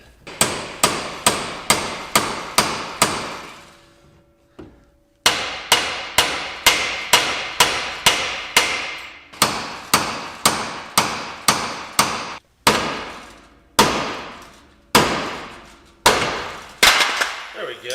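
A steel pickle fork is hammered to split a ball joint on an old abandoned Mopar, with sharp metallic blows landing in quick rhythmic bursts, a brief pause, then more strikes spaced wider apart, loud and close.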